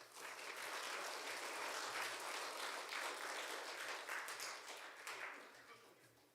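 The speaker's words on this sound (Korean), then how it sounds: "나오실 때 우리 환영하는 마음으로 박수로 환영해 주시면 감사하겠습니다" A church congregation at a New Year special prayer meeting applauds to welcome the pastor to the pulpit, a broad, continuous wash of many hands clapping that swells, holds, then tapers off near the end.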